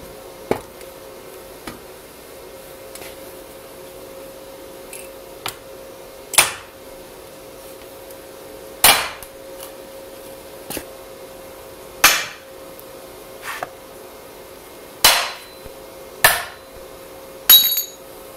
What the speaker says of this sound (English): is maybe hit this off with a hammer, if I can, and then give it another go